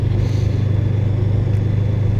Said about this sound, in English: Very good sounding bike though.